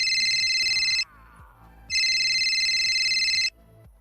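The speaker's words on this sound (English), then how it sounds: "Y'all hear that phone ringing?" A phone ringtone trills in two long bursts separated by a short pause, bright and steady, with a soft low voice murmuring faintly underneath.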